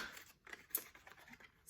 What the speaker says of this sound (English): I gotta open this with a little knife I have here.